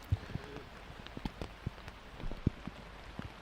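Rain patters down on a Finnish disc golf course at the Turku Open women's round, with irregular close drops and taps sounding sharply over a soft, steady wet hiss.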